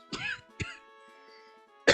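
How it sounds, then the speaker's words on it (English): Three sharp coughs from one person land close to the microphone, spaced unevenly across two seconds with a quiet hum between them. "Hold on, sorry, I'm coughing."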